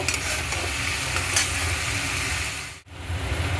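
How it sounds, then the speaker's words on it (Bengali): Fried potatoes being stirred into a banana flower curry, with continuous sizzling and scraping of the spoon, a brief lull near the end, then the frying resumes. "ভেজে রাখা আলুটাও অ্যাড করে দেবো দিয়ে ভালো করে মিলিয়ে নেব"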